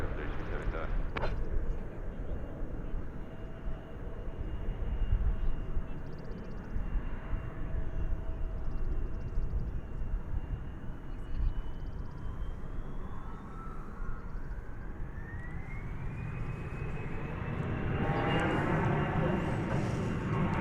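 An airliner rolling for takeoff on runway 18 left at DFW Airport, its engine roar building to a rising whine toward the end, heard from a distance under a voice and crackling radio chatter.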